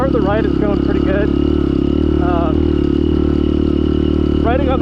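A Benelli TNT 135 motorcycle rides off-road on a detour near a campground, its small engine buzzing steadily with several rising revs and gear changes, loud and close throughout.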